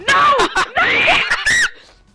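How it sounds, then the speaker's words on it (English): A person playing GTA 5 screams in short, loud, high bursts that break into laughter-like yelps, close to the microphone, then trail off into quiet. "I just screamed right now"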